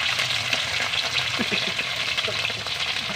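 Eggplant slices fry in hot oil, giving a steady, dense sizzle with scattered pops and spatters throughout, moderately close and even in level.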